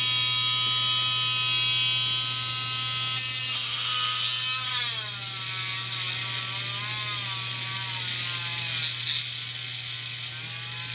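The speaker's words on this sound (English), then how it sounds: "now we're going to drill our indentations" A drill boring indentations into an eBay projector headlight housing for a Ford F250/F350 Excursion, a high whining tool tone that shifts pitch as it bites and carries on continuously and close, with no speech.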